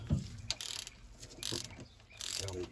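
A ratchet torquing down the head bolts on a 1981 Ford F150 during a head gasket change, giving short bursts of ratcheting clicks separated by pauses, close up and fairly quiet, with no talk.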